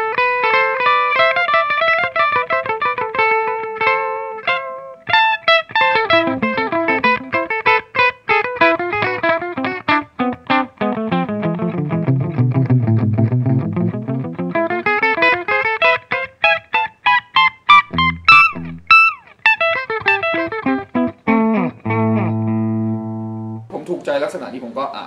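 Electric guitar notes echoing through an Aalberg Audio Ekko digital delay pedal, repeats stacking into layered runs and sweeping patterns, with sharp picked accents and a held chord at the end.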